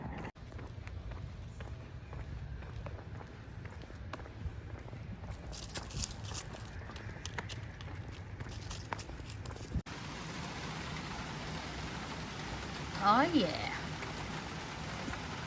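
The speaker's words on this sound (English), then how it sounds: "Summer storm." Summer storm rain falls steadily outdoors as a broad, even hiss that carries through, with a brief voice near the end.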